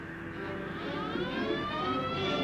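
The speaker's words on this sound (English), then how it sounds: "Then I heard the siren." A Coast Guard boat siren wails steadily, its rising tone sweeping upward and holding at moderate loudness for a couple of seconds, with no talk over it.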